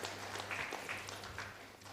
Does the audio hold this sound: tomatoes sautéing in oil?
no